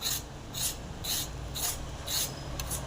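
Fibrous ridges are scraped off a ridge gourd with a knife in a rhythmic series of about six soft, close rasping strokes, evenly spaced and separated by brief pauses.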